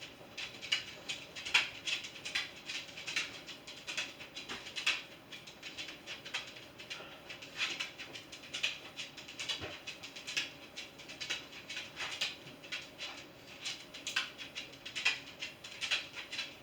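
An injured dog pants quickly and steadily and whimpers now and then, close and fairly quiet, with a faint low rumble in the background and no talk.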